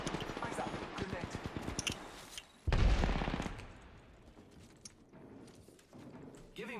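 Video game gunfire crackles in rapid bursts and fusillades, with a heavy boom midway, while a voice talks over much of the action.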